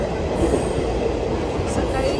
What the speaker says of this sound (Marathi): चलो ट्रेन चालू